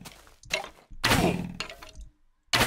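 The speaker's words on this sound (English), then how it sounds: "So, as well as the sound of the bow, you also heard there the new player sounds" Minecraft with a Classic Craft 1.7.4 resource pack, a skeleton shooting its bow and the player taking damage: several close, loud thunks and whooshing hits in quick succession.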